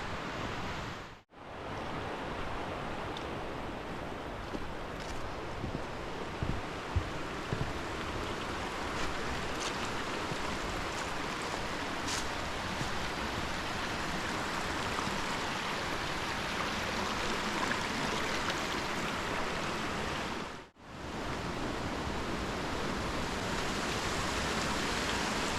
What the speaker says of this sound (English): Richland Creek runs right along the trail here at Laurel-Snow State Natural Area.